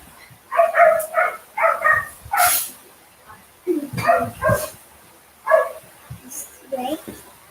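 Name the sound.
dogs barking excitedly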